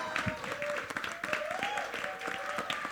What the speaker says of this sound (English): we must also cheer for Pooja, who's the DOP who joined them for the picture.